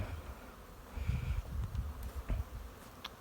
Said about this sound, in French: ça c'est des abeilles qui viennent d'Allemagne